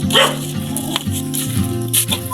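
A dog barks and whines close by at a village in Nepal, giving several quick, strained, tonal calls over about two seconds with no talking.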